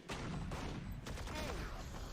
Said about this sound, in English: And the spray transfer good from Forsaken